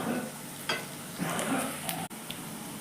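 Onions browning in a pan for a home-cooked vegetable dish, giving a steady soft sizzle with a few louder crackling bursts and a brief clink, no voices.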